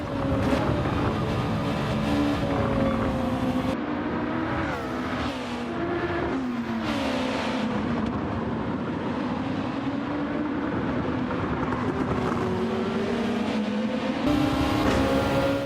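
Race car engines roar steadily in a racing game as a Lexus pulls out of the pit exit, a continuous loud drone with shifting engine pitch and occasional gear changes, no voices.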